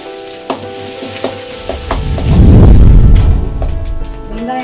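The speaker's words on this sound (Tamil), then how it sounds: "வெங்காயம் நல்லா வதங்கிடுச்சு பாருங்கள்" Onions sizzling and being stirred in a hot pan, a loud frying hiss that swells in the middle with a few clanks of a utensil.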